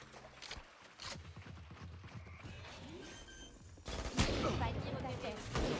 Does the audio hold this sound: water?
no